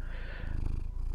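A cat purrs in the Dwarf Fortress game, a steady low rumbling close and alone, running through the whole short stretch with a slight swell midway.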